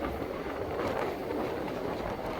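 A passenger train travelling from Mayiladuthurai to Rameswaram rumbles steadily throughout, with broad continuous rolling noise mixed with heavy wind buffeting the microphone.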